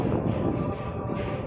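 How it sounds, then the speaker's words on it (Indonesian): A commuter train bound for Cikarang pulls into platform 8 at Manggarai station at night, a loud, steady low rumble of rolling cars close by with no talk. "Bakal masuk jalur 8 komuteran tujuan Cikarang."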